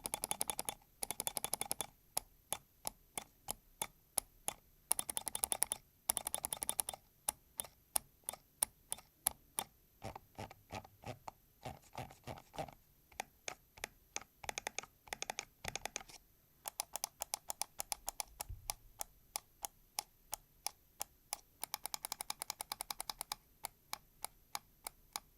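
Sharp, crisp gaming mouse button clicks close up, lively but steady with no housing rattle or hollow ring, in rapid runs and single taps with short pauses, no talking. The mouse is a 45g ultralight Varo V1.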